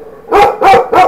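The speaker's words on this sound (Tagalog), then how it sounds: "Maingay yung aso namin." A dog at home barks three times in quick succession, loud and close, each bark sharp and evenly spaced with nothing else heard.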